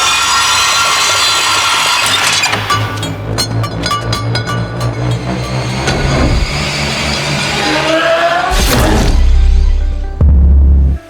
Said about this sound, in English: Before they could react, the masked freak started a chainsaw.